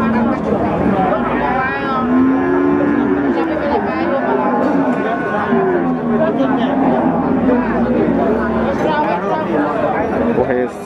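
Cattle lowing at a busy livestock market in Wirosari, Grobogan, Java, with Javanese and PO breeds penned close together; several moos rise over steady crowd chatter and murmur, with a person talking nearby throughout.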